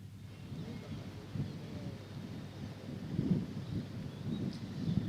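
Steady rain falls during a multi-day monsoon spell in Chhattisgarh, with low, distant thunder rumbling and swelling in slow waves; the whole scene is faint and quiet, and no one speaks.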